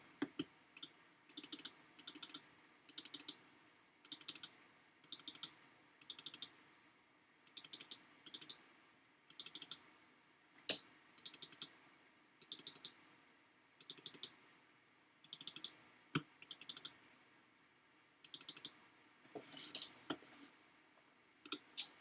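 Rapid bursts of computer mouse clicks, triple-clicks selecting timber sections while modelling in SketchUp, repeat in a steady rhythm of short clustered ticks, close and crisp, with no talk over them.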